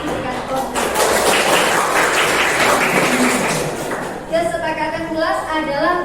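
A classroom of students claps vigorously for a few seconds, the dense applause then giving way to a voice speaking.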